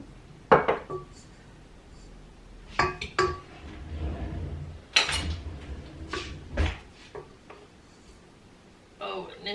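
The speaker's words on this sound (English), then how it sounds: "So what you need to do is get your crystallized honey out of your jar," Metal spoon clinks and scrapes against a jar and bowl while sticky crystallized honey is scooped out, sharp separate knocks spaced every second or two, close and clear, with a person talking between them.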